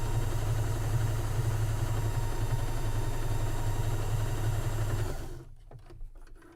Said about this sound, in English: because I chain piece them, my other block's following right behind. I'm going to sew right onto it.